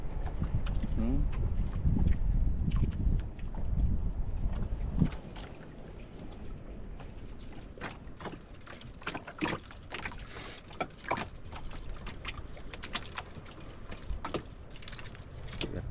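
A small bangka outrigger boat's engine runs steadily beneath wind noise and water sounds, loud at first and then settling lower, with occasional voices nearby.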